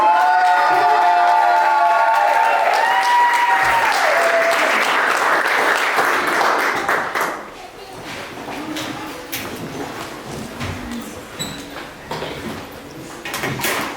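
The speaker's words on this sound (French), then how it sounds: "Est-ce qu'on peut applaudir avec beaucoup de monde ce soir?" A church congregation breaks into loud, sustained applause at a Sunday service, gradually thinning out into scattered clapping, with some musical tones at first.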